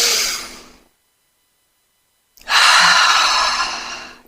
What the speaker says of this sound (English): And then we exhale out of our mouth.